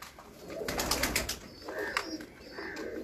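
Pigeons in a mud-plastered pigeon loft coo in soft, overlapping rolling calls, close and moderately loud, with a few brief chirps and faint rustling around them.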